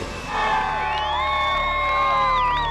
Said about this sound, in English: Cheering, blowing of horns, celebration